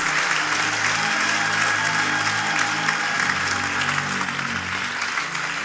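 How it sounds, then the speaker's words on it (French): A church congregation cheers and applauds loudly, a dense, continuous wall of clapping and shouting with a steady hum underneath. "Est-ce que nous pouvons acclamer très fortement le Seigneur?"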